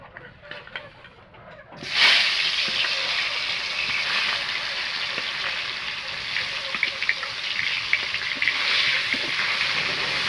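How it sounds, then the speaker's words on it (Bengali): Shol fish frying in hot oil, a sudden loud hiss and crackle bursting in after a quieter start, then a sustained sizzle with scattered pops close by, no talk over it. "তেলটা গরম হয়ে গেছে, এবার মাছগুলো ভেজে নেব।"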